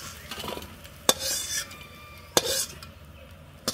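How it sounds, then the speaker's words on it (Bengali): Pots and utensils clatter as fried okra is taken off a pan in a home kitchen, with sharp metallic clinks and scrapes standing out over faint background noise. "এই যে ঢেঁড়স ভাজি হয়ে গেছে, এখন নামিয়ে নিব।"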